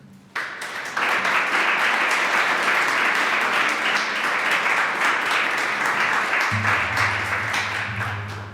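A lecture audience breaks into sustained applause to welcome a speaker, dense hand clapping filling the hall for several seconds before thinning out, joined by a low hum near the end.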